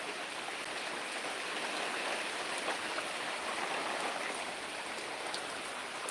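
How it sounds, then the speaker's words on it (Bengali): Steady, soft patter of light rain falling continuously, an even hiss with no voices and no breaks. "বৃষ্টি এখন একটু কম আছে"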